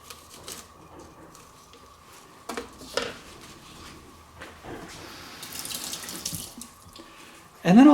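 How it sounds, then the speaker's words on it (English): Water from a kitchen faucet splashes into a sink as jalapeno seeds are rinsed away, with intermittent spattering and clinks of dishes, quiet at first and growing fuller, ending with a louder burst. "And then I'm going to rinse these seeds down the sink."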